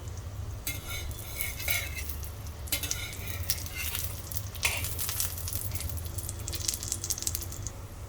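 Sindhi jaggery koki cooking in oil on a low flame makes a soft steady sizzle close by, punctuated by bursts of scraping and clinking as a utensil works the pan.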